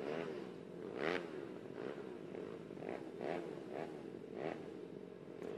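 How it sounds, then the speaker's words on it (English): Faint, distant GP 110 mini motorcycle engines buzz and rev in uneven bursts at a youth race, rising and falling in pitch against a rough outdoor background. "You hear them revving the bikes up."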